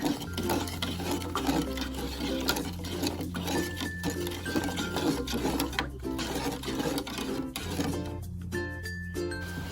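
Sugar, salt, water and pandan leaves being stirred together in a pot over the lowest heat, giving a steady scraping clatter over a constant low hum, with no talking.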